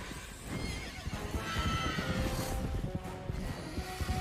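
Horses whinny loudly over a clatter of hooves and rumbling activity, sounding close and continuous, in the video game God of War.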